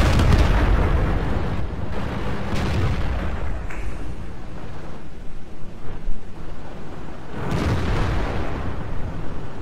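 Repeated booming cannon shots and explosions in the tank battle video game World of Tanks, loud and broadband, with a heavy blast near the start and another strong burst around the middle, over continuous battle rumble.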